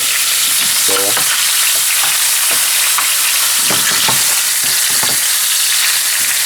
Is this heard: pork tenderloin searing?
yes